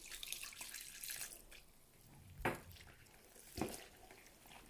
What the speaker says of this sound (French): Donc là, j'ajoute l'eau.